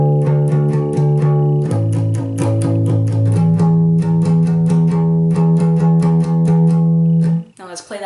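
A bass guitar slowly plays a riff, its notes ringing out loud and close, each sustained and then moved to the next, with a brief scrape of noise at the end.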